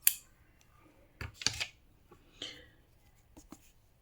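Scissors snip through crochet yarn while fastening off, giving a few short, crisp close-up cuts and clicks separated by quiet pauses.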